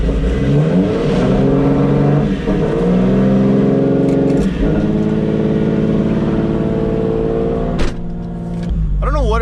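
A car engine on a cold start settles into a fast, uneven idle and is heard up close. It is loud and continuous, with a few sharp clicks and knocks over the running engine.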